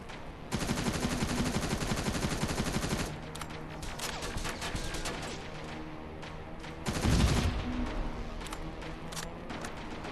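Turret gunfire in Terminator Resistance, rapid automatic bursts that rattle for a few seconds, pause, then flare again with a heavier burst, loud and close over a busy background of combat noise.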